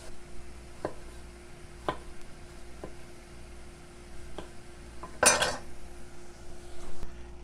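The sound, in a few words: knife roughly chopping plum tomatoes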